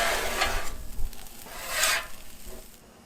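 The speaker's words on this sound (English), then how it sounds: "once your pork is all the way cooked, go ahead and move it over to the side with the eggs" Cooked pork being pushed across a Blackstone griddle beside eggs, giving two bursts of scraping and sizzling with a quieter scrape near the end. The sound is close and steady, and nobody speaks.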